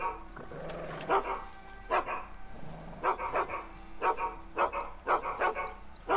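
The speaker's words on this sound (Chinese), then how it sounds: "我家的狗子跑在这里耶" A dog in the game Red Dead Redemption 2 online mode barks repeatedly at a camp under raid, several sharp barks in irregular bursts, moderately near over quiet background.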